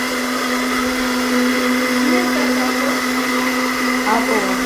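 A kitchen blender runs steadily and loudly for several seconds with a constant motor whine, while people talk over it.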